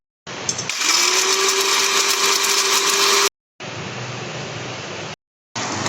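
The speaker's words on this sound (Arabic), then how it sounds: "راح اطحنه بهاي الطاحونة وبعدين اضيفها" An electric grinder blitzes onion for a Basra-style shrimp dish, running in loud, steady whirring bursts: one long run, then a short pause, another run, and a brief restart at the end.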